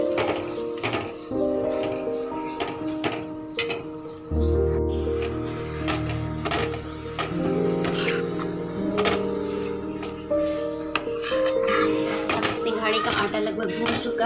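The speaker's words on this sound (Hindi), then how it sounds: "हम इसमें सिंघाड़ी का आटा डाल देंगे और इसे अच्छी तरह से चलाते हुए भून लेंगे" Water chestnut flour is stirred and roasted in an iron kadhai, with steady scraping and tapping strokes heard beneath music and a voice.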